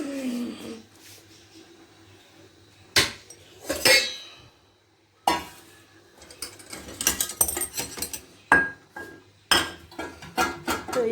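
Dishes, pots, a strainer, spoons and a small pan are put away in a home kitchen: sharp clanks and metallic clinks arrive in irregular bursts, close and fairly loud, with quiet pauses between.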